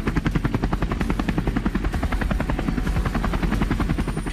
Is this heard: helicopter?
yes